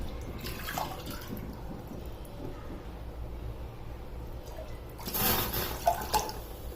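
Two bowlfuls of water pour into a pot heating on a gas stove while wheat-flour sheera is being made. A soft watery trickle runs under low kitchen noise, then a louder splashing burst comes near the end.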